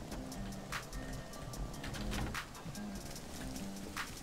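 Rain patters steadily in the survival video game Rust, a continuous wash of drops with occasional louder splashes, while faint low cooing or tonal game sounds drift underneath.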